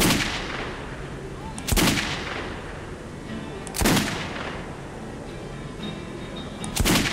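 Gunfire at a shooting range in the video game Metro 2033: three loud, separate gunshots spaced a couple of seconds apart over a steady ambient background, with no talking.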